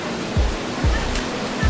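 Mountain waterfall near Sochi roaring as a steady, loud broadband rush of falling water, close by, with faint low thumps underneath and no talking.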